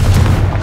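A Confringo fire spell explosion in Hogwarts Legacy, a single loud, deep boom that lands hard and rumbles briefly before fading.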